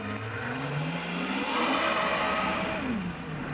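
Upgraded model boat motor running at full throttle on a 3S battery, a loud sustained high whine with shifting pitch that rises and falls as it runs, close and continuous without any talk.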